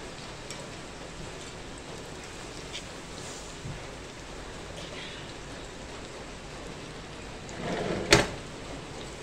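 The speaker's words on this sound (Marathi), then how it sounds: "खरपूस तळून घ्यायचा आहे बरं का लसूण आपल्याला छानपैकी लालसर होईपर्यंत" Garlic fries in oil until reddish for Kolhapuri bhadang, a steady soft sizzle heard close and moderately loud, broken near the end by a brief utensil clatter.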